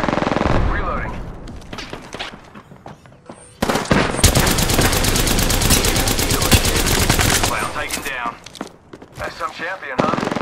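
Sustained automatic gunfire and scattered shots from the video game Apex Legends, loud and close, with a long continuous burst in the middle between shorter volleys and game voice lines.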